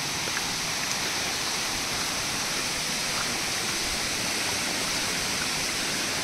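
Mountain stream and small waterfall on the Agasthiyar hill trek, a loud, dense, unbroken roar of rushing water close by with no voices.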